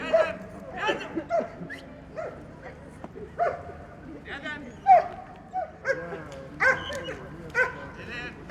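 A border guard dog barks and yelps repeatedly in short bursts during an outdoor demonstration of detaining intruders, with people talking throughout.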